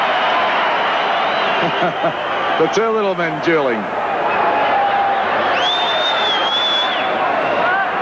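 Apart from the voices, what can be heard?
stadium crowd cheering at rugby league test match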